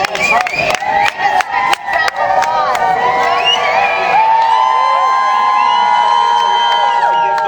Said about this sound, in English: Fabulous crowd here.